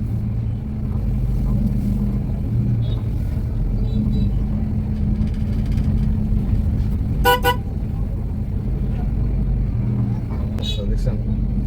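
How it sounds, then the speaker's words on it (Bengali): Toyota HiAce van driving with a steady low engine rumble throughout, broken by a short burst of horn honks around the middle and another brief toot near the end, with a person talking over the engine. "এই হাতে হর্ন ইউজ করবেন।"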